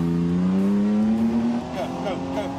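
A Toyota Land Cruiser 4.5 bakkie in low range with front and rear diffs locked pulls off on sand dunes, its engine droning steadily with rising revs, close and loud, while people talk over it.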